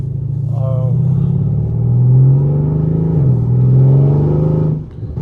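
A Mercedes C63 AMG engine tuned by Weistec gives a loud, deep rumbling drone that swells and eases back as the revs shift, with a dip near the end, heard up close.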